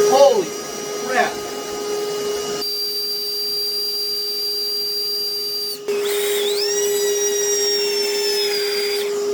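A Milwaukee cordless vacuum cleaner runs with a steady whine that rises to a higher, harsher pitch partway through, preceded by a few brief clunks, loud and close.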